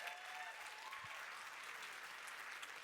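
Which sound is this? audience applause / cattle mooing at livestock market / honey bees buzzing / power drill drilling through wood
audience applause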